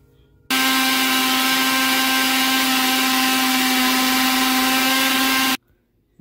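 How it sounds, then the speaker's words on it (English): Blender mixing a thick Irish moss smoothie, a loud steady motor whine that starts abruptly, runs continuously for about five seconds, then cuts off sharply. "And then my blender."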